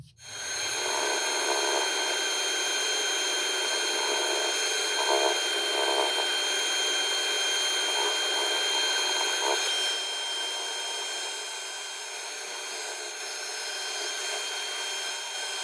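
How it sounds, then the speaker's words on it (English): Steady abrasive sanding against the base of a spinning wooden piece on a lathe, a continuous loud rasping whir with slight shifts in pressure, no voices. "I'll do a bit of sanding on the bottom."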